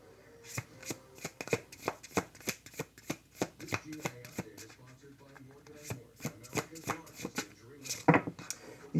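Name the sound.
shuffling a deck of tarot cards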